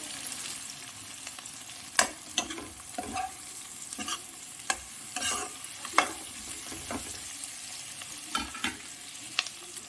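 Onions frying over high heat in a pan for pakora kadhi, giving a steady sizzle with scattered crackles and occasional sharp stirring scrapes, close and fairly loud, with no talk.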